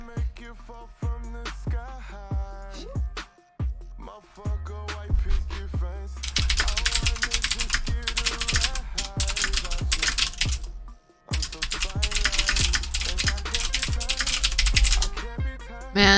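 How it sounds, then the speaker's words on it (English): Aggressive typing on a computer keyboard clatters in fast, dense bursts of key strikes, heard close over a steady tonal background with a brief pause midway. "you guys won't be able to hear my aggressive ass fucking typing if I get a new keyboard"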